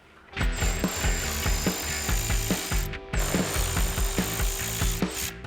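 A hand ratchet backs out 10mm bolts on a Toyota Tacoma in quick, rhythmic clicking bursts, close and clear, with a short pause midway before the clicking resumes.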